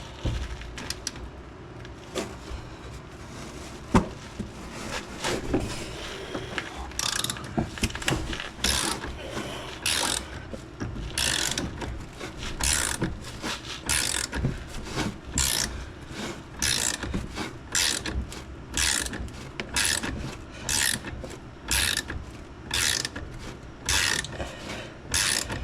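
A ratchet wrench tightens a bolt during an ABS unit install on a second-generation Dodge Viper. It gives off steady runs of sharp, close clicking strokes in a quick repeating rhythm, with brief pauses between bursts.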